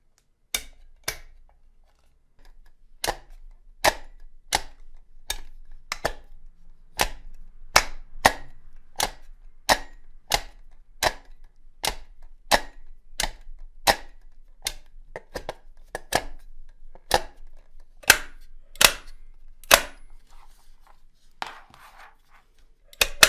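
Project D sim racing shifter gear stick clunking into gears over and over, a rubberized bumper taking each hit: about two dozen sharp, close clacks at a fairly steady pace, alone and without talk.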